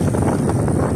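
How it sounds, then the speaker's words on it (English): Wind buffeting a microphone during a bike ride outdoors, a loud steady low rumble with soft fluttering, filling the whole brief moment without any voice. "Forgive the wind."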